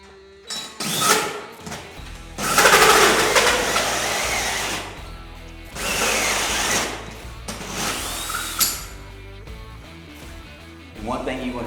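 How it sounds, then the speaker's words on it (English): Wall hole drilled with a 2.5 inch hole saw for a Mr. Cool DIY mini split install, in several loud grinding bursts separated by short pauses. "So that's where I'm going to drill my hole."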